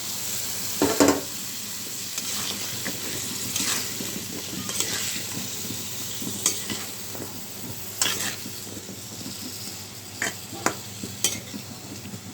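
Potatoes and ground spice paste frying in a pan during home Bengali cooking, a steady soft sizzle broken by repeated scraping and stirring strokes of a spatula, close and moderately quiet, with no talk.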